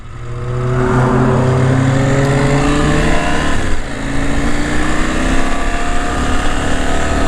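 Car speeding along a mountain road on the Isle of Man, a loud close engine roar that swells quickly and holds steady, with rising and falling pitch as it passes, heard from beside a motorcycle.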